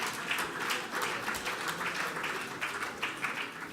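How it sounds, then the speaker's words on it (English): Steady applause from a dinner audience at the Royal Cocoa Festival Dinner in London, a dense, even patter of many hands clapping for about four seconds at moderate distance, with no voices standing out. "A round of applause for Mr. Angus Kennedy"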